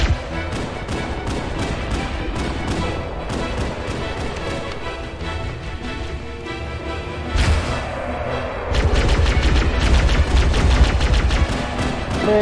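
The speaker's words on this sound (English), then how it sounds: "There's a tank somewhere shooting bullets." Rapid bursts of gunfire from a tank in the Halo video game, a dense run of shots that swells louder partway through, with no talking over it.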